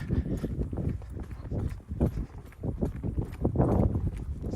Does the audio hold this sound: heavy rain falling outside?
no